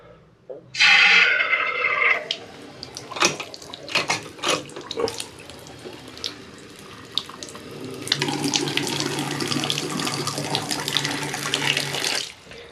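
A bathtub tap gushes loudly into a tub fitted with a trip lever drain, pouring steadily for a couple of seconds, then after scattered clunks and handling noises the stream starts again and runs strongly to the end.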